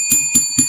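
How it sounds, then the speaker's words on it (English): A bell sound effect rung three times in quick succession on a live sports talk stream, with bright, clear, evenly spaced dings. "Let's raise the bell for Ghost Peppers."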